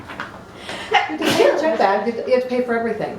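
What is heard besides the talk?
sneeze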